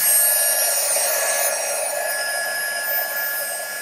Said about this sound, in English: Now I'm going to turn on my heat gun